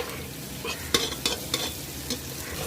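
Onion, ginger and garlic fry with a steady sizzle in a pan as a spoon scrapes and stirs, giving four or five sharp, close clacks spaced irregularly over the hiss, with no talking.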